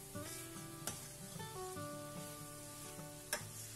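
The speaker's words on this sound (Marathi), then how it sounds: "हे आता घालून मी आता हे सगळं चांगलं मिक्स करते एकदा." Frozen green peas stirred into egg kheema in a pan, a quiet sizzle under scraping of a spoon with a couple of sharp knocks against the pan, plus some steady tonal hum, no talk.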